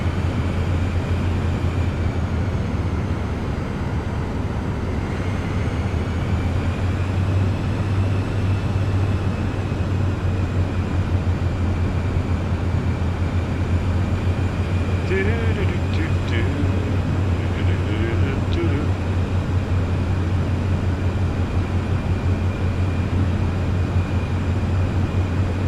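A Cirrus Vision Jet G2+ flies low in a flight simulator game, its engine a steady, unbroken drone that holds at an even level for the whole stretch with no pauses.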